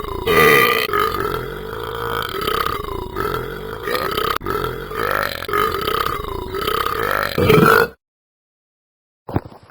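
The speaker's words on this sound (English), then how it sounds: "I hope you enjoyed this marvellous burping video." The cartoon character Talking Ben the Dog burps the Jingle Bells tune in a run of loud, close, croaking belches that rise and fall in pitch. The sound stops abruptly, leaving near silence, then one short sound follows.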